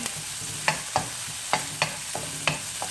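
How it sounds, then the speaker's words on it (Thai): Garlic and chili stir-frying in a pan: a soft steady sizzle punctuated by a handful of sharp, spaced scrapes and taps of the spatula, close and fairly quiet, with no one talking. "ก็ผัดให้ เตรียมไปเลยค่ะ ให้พริกไหม้นิดๆนะคะ"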